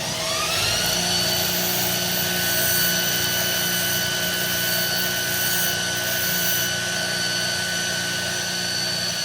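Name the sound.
grinder sharpening a tungsten electrode for TIG welding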